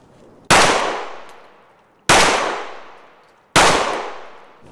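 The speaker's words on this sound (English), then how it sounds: "We'll push back to the 10 now and shoot that same 3-shot group" A SIG Sauer P365 Fuse pistol fires three loud, sharp shots from 10 yards, spaced about one and a half seconds apart, and each crack tails off into a long decaying ring with no talking.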